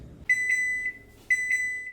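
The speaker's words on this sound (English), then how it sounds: "We are going to pop it in, 400 degrees, and then set a timer" An oven timer sounds while a pork hock roasts at 400 degrees, two quick bursts of sharp, clear electronic beeps, each burst a triplet of pips about a second apart, close and alone.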